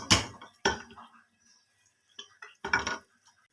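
Pieces of washed goat meat go into a metal pressure cooker pot, making a few sharp close clanks and knocks in separate bursts with quiet gaps between them.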